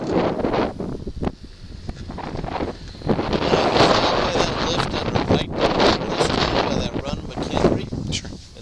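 Strong wind blows continuously and buffets the microphone in gusts throughout, loud and close, with no clear speech.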